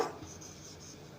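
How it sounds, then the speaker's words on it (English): A pen or pencil writes by hand on paper, a soft continuous scratching with small strokes, close and quiet, with no voices. "So I'll write here for sale."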